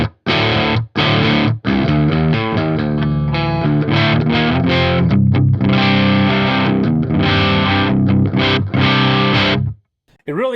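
An LTD EC-201FT electric guitar with a Seymour Duncan Slug pickup plays loud, dense chords and riffs on a clean channel, ringing continuously for about ten seconds with brief gaps before cutting off near the end.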